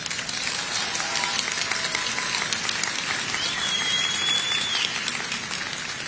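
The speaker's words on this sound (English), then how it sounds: "with a round of applause for yourself, let me hear how proud you are of yourselves" Graduates and crowd at a high school commencement break into applause, a steady roar of clapping with scattered cheers and a brief whistle rising above it.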